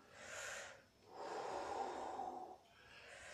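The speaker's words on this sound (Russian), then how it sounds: "Это чакровое дыхание, да, этим так помогать. Шевели, вдох, выдох" Deep chakra breathing with slow, audible inhales and exhales, close and breathy, alternating in long strokes with no speech.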